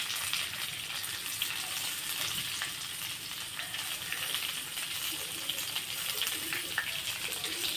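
Chopped onion goes into a pan with garlic that has already been lightly browned, giving a steady, fairly quiet frying sizzle that continues evenly without a break.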